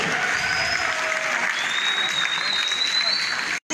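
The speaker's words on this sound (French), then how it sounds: "Applaudissez s'il vous plaît, applaudissez" Sustained audience applause from a crowd at a public event in the Democratic Republic of Congo, dense and steady throughout, with faint whistles above it before it cuts off abruptly near the end.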